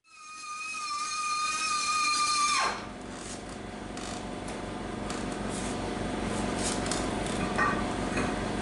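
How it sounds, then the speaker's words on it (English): A Dremel rotary tool enlarges a hole in metal on a 1931 Chevy rat rod's front suspension, first whining steadily at a high pitch, then dropping into a rougher grinding buzz as the bit bites into the steel. "so I'm gonna take my Dremel tool and open this hole up"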